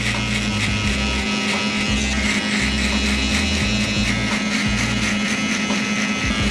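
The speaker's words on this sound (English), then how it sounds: "The FX3 shaver" An FX3 electric hair clipper buzzes steadily and close by while debulking and fading hair, a constant loud motor hum with small shifts in pitch as it moves through the hair, with no voices.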